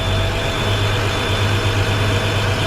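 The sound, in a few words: truck engine revving in neutral with brakes applied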